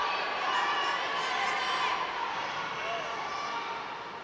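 Spectators cheer at a Roll-Line Cup roller derby match as the Barcelona team scores five points, a steady broad roar of crowd noise that stays loud throughout and eases slightly toward the end.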